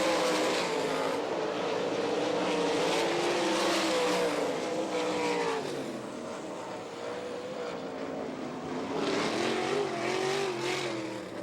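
World of Outlaws sprint cars roar through a heat race at Rossburg, Ohio, their engines blending into a continuous, loud wall of revving that rises and falls as the cars sweep past.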